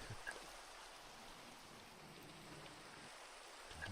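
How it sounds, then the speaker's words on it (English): Soft, steady patter of rain falling in a Minecraft game world, a faint even hiss of drops continuing without pause and with no voices over it. "It's raining."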